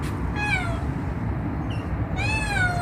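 Cat meowing in a morning backyard in Saudi Arabia, two clear drawn-out meows close by, the second longer and falling in pitch, over a steady low background hum.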